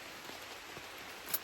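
Rain beginning to fall on a campsite, light and faint, a soft steady patter with a few scattered drop taps and one slightly louder hit near the end.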